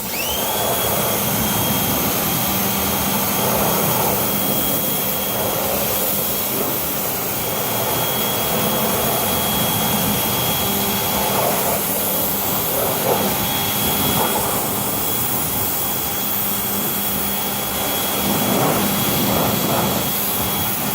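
A car being rinsed off at a detail shop: a steady, loud broadband spray hiss runs throughout with a faint high whine from the equipment, and no clear talk.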